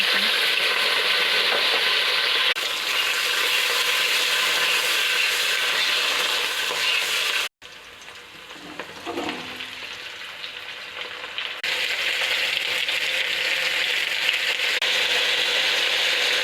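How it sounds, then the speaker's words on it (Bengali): Onion and garlic frying in a pan with dried fish and a little turmeric, a loud, steady sizzle and crackle close up, broken by a brief cut to quieter stirring before the frying returns. "তো এখন দিয়ে দেবো পেঁয়াজ রসুন।"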